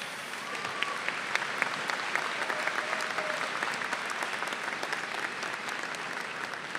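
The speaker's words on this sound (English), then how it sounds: "Give him a round of applause, please," Audience applause at a spring graduate commencement ceremony, a dense steady wash of many hands clapping at moderate level, sustained for about seven seconds with faint crowd murmur underneath.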